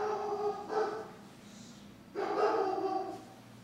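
A dog indoors lets out two bursts of barking and whimpering yips, separated by a quieter pause, fairly close and heard without talk.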